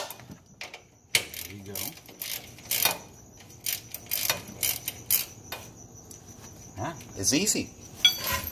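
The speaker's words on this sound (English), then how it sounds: "So you set your clicker here at 25 pounds, and just go ahead and torque those already kind of pre-torquing." Click-type torque wrench set to 25 pounds tightening strut bolts on a Nissan Titan strut assembly, giving short mechanical ratcheting and clicking bursts close by, with someone talking briefly between them.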